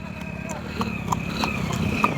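Horses gallop in a race, their hooves drumming in a steady rhythm under loud continuous commentary and crowd noise.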